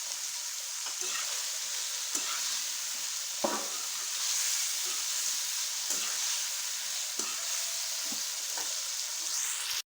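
Whole green chillies fry in hot oil, giving a steady close sizzle with occasional soft scrapes and clinks of a utensil stirring them in the pan.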